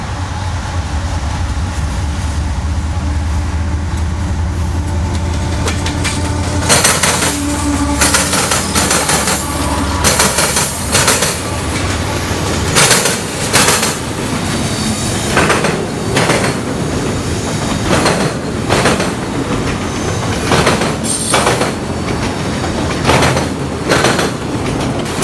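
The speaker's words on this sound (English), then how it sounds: "Here comes CSX Q410, absolutely flying through North Charleston." CSX freight train Q410 passes fast through North Charleston, opening with a loud rumbling roar that gives way to sharp, rapid clickety-clack wheel beats over the rails as the cars go by close up.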